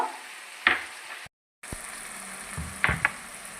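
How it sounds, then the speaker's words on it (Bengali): A spoon stirs spice paste of turmeric and chili powder mixed with water in a frying pan. A soft sizzle runs under a few sharp, close scrapes and clinks, with a brief dropout in the middle. "আমি ভালো করে এটা নাড়াচাড়া করবো"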